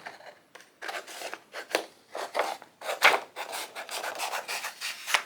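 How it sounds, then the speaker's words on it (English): Scissors cut through white paper in a quick series of close crisp snips and rasping slices, uneven in rhythm with short pauses between cuts, no talking. "Let me cut my white paper so I have a place to clip onto."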